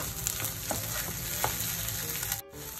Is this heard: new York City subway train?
no